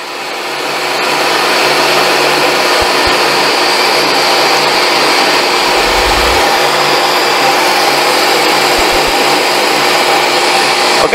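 A Stanley 1801 10-inch table saw motor spins up and runs at full speed with a loud, steady, high-pitched whine and broadband roar, with faint bumps and clicks underneath and no talking.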